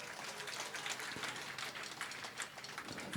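A stage comedy audience claps in a soft, steady patter that stays faint and distant, with no one talking over it.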